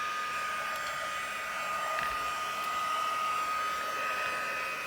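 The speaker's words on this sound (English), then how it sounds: "let me use my heat tool" A heat embossing tool blows hot air steadily while making a craft card, a continuous whirring hiss that stays even and close for the whole stretch with no talking.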